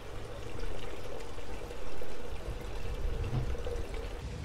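Water from an aquaponics sump tank poured out of a cup onto a newly planted plant, a steady close splashing pour lasting a few seconds with a brief surge midway.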